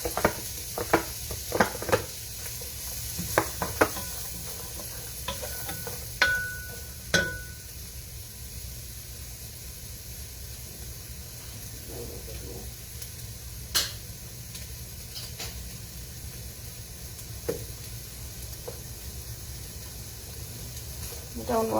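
Onions frying in a pan with pork fat and ghee for sarapatel curry, a soft continuous sizzle under scattered clinks and stirring taps, with a voice speaking over it.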